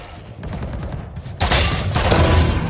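Rapid bursts of gunfire in the video game Valorant, a quick rattle of shots followed by a louder, denser volley of automatic fire that continues to the end, heard alone with no talk.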